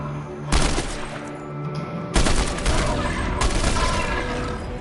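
Gunfire in a PS4 video game, with loud bursts of rapid shots starting abruptly around half a second and again near two seconds, followed by sustained firing, close and dense.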